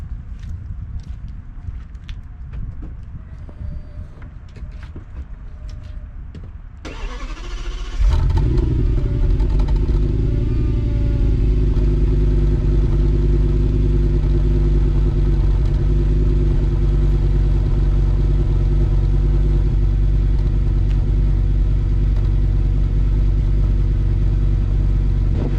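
A V10 Audi S6 is cold started: quiet clatter and footsteps for several seconds, then the engine cranks and catches and settles into a loud, steady, deep idle that runs on to the end.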